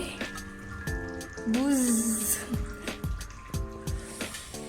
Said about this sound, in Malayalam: നമുക്ക് വറക്കാനുള്ള പരിപാടികൾ നോക്കാം എണ്ണ ഒഴിക്കട്ടെ